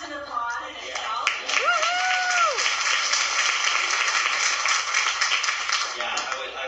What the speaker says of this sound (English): That deserves an applause in itself.